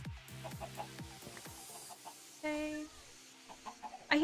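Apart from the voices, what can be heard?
chicken clucking in the video game Minecraft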